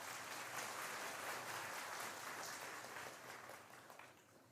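A crowd at a religious gathering at Pandokhar applauds, a dense, continuous patter of many hands that holds steady and then fades toward the end, with no voices over it.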